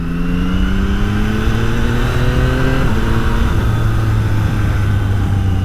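Yamaha MT-09 Y-AMT 2025 three-cylinder motorcycle engine pulling hard through the gears, a loud, steady close-up drone with rising pitch that dips briefly at each shift before climbing again.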